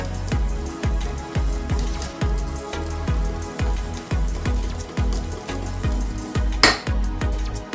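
Red velvet beet cake batter with sifted flour being mixed in a bowl, a steady run of regular scraping taps roughly twice a second, close and continuous, with no talking.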